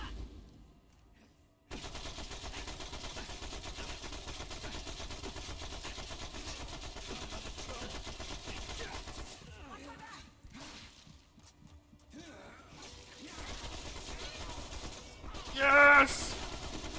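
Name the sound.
gunfire in a video game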